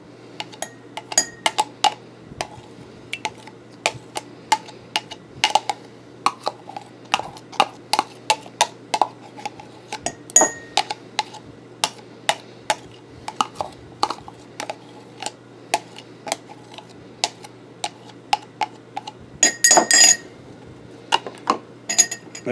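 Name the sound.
scraping thick aloe vera gel out of a container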